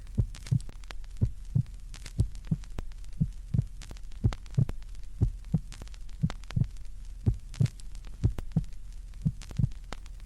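A steady, deep heartbeat thumps in close, regular double beats, lub-dub after lub-dub, over a low constant hum with no other sound.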